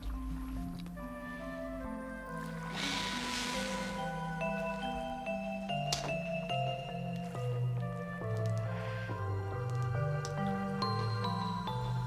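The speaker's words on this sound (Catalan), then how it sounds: "l'introdueix dins la tina per treure la coberta de fibretes de pasta, mentre l'aigua s'escorre entre la trama" Water drains and drips through the mesh of a papermaking mould lifted from a vat of pulp, a continuous wet trickle and squelching with faint tonal background hum, moderately close, with no voices.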